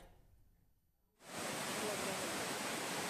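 Kutralam waterfall, swollen after heavy rain, roars as a loud, steady broadband rush that begins abruptly after a quieter opening and continues unbroken to the end.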